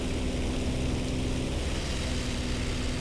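Stuka dive bomber in the video game War Thunder, its propeller engine droning loud and steady with a constant hum throughout.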